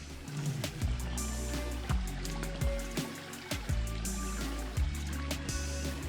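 A creek flows continuously with a steady rushing wash of water, close and fairly loud, with irregular splashy bursts throughout and no voices.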